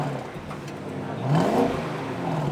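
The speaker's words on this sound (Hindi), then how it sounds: "और ऐसा कुछ साउंड करता है इसका एग्जॉस्ट नोट।" An Audi SQ8 with a V8 engine revs up, its exhaust note rising in a short, smooth climb and then easing back. The rev is moderately loud and close, over a low engine hum, with nobody talking.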